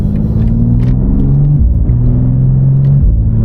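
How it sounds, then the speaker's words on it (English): A stock BMW E36 M3 engine drones loud and close under load, its pitch rising steadily, then dropping sharply at two quick gear shifts before climbing again. "listen to the shifts, dude"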